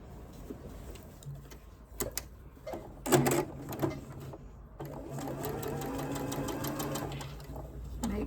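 A sewing machine stitches a seam on a Christmas quilt, running in short starts at first, then a steady, close whirring run of stitching.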